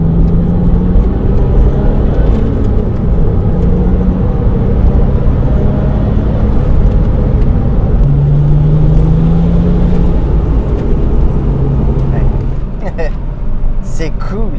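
Porsche 911 996 Turbo driving on a country road, a constant loud engine and road roar heard from inside the car while someone talks over it throughout.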